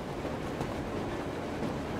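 A train from the game Metro Exodus rolls steadily along its rails, a dense, continuous rumble with a low clatter running beneath it, loud and close, with no pauses or voices over the full stretch.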